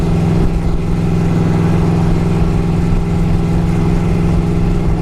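A 2008 Yamaha Royal Star Venture motorcycle engine drones loud and steady while riding, a deep, even rumble with a faint rise in revs, heard up close with no speech.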